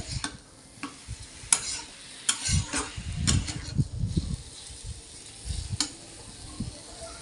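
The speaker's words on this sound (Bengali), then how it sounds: "ভালো করে মশলাগুলোকে মিশিয়ে নেব" Spices and Malabar spinach stirred in a pan, with uneven scraping and clinking strokes of the spoon over a soft sizzle, moderately close and without talk.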